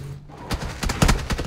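Rapid bursts of gunfire in PUBG crackle in quick succession, loud and close, several volleys over a second and a half with no talking.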